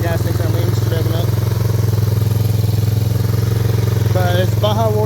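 A 140cc manual mini bike engine running lean as its gas runs low, revving with a steady low drone and rising throttle bursts near the end, close and loud.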